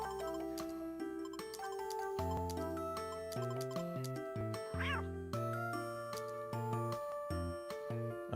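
A cat meows in the Time Hollow game on the Nintendo DS, one short wavering cry rising over steady game music that plays throughout.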